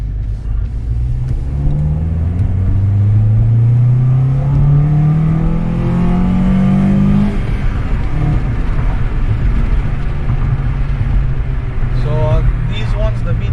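An Acura TSX fitted with an Injen cold air intake accelerates hard through VTEC, its engine note climbing steadily and loudly from inside the car before the revs drop, while a person talks.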